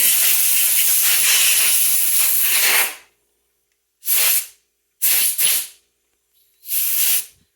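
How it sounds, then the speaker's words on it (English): Compressed air blowing through Amal carburetor jets from a Triumph Bonneville T140V: one long loud hiss, then three short sharp blasts after a pause. "we're going to blow all the jets out and make sure they're golden"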